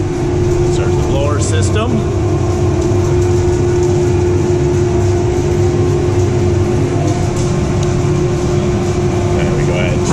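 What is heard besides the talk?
ZCS 600 system blower starting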